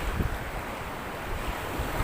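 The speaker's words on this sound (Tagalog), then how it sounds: "Wow, lakas ng alon ah." Strong sea waves pound a high seawall at Sitio Pulot. The roaring surf wash is broad and continuous, with gusty wind buffeting the microphone and a low rumble underneath.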